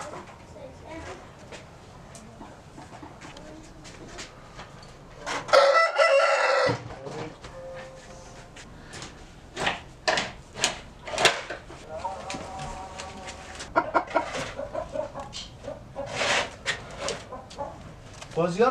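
Chickens cluck and a rooster crows repeatedly at a busy Kabul market, close and loud in bursts, mixed with people talking and general street bustle.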